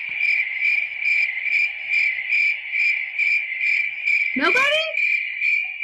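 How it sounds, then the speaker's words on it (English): Steady pulsing cricket chirps repeat in a regular rhythm throughout, a comedic silence effect, with a brief voice speaking near the end over the chirping. "Why am I only hearing crickets?"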